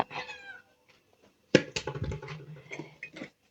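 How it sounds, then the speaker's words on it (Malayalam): A cat gives several short meows nearby, mixed with some light clattering and knocks. "മീന്റെ മണം കിട്ടിയ അപ്പൊ വരും പൂച്ച"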